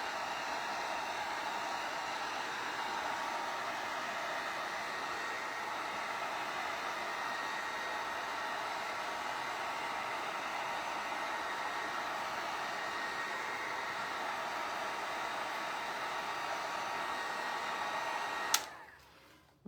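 A hot air tool drying craft paint on a slick tile surface, a steady close whooshing blower that runs alone for nearly twenty seconds before switching off abruptly.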